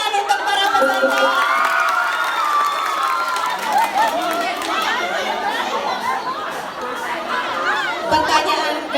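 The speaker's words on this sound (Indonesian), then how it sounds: "Tepuk tangan untuk para peserta." Crowd of junior high school students cheering, shouting and chattering loudly for participants in a Balinese-language quiz contest, a dense continuous roar with excited yells throughout and no distinct clapping standing out.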